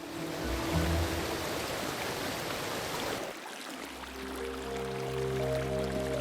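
A high waterfall in the Drakensberg mountains pours down as dense, hissing white noise for about three seconds, then cuts to quieter sustained tonal sound.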